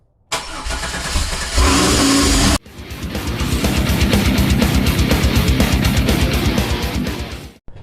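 A supercharged Pontiac Fiero engine cranks loudly for about two seconds. After a short break it cranks again, fast and rhythmic, for several seconds, then stops. Nobody speaks.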